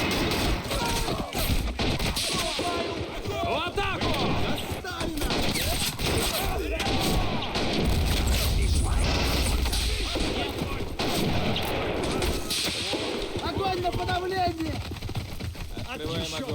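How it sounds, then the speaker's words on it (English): Battle sounds from the video game Army Men: World at War fill the scene: rapid gunfire bursts, grenade explosions, with a deep blast in the middle, while voices shout and talk throughout. "There's a lot of explosions going on here."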